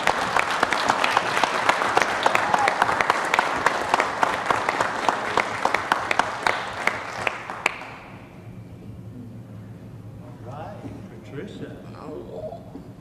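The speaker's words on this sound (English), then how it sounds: "So let's give them a big round of applause." At a city council meeting, people applaud professional business women with a crisp burst of clapping that lasts several seconds and then stops abruptly, followed by quiet room sound and a person starting to speak.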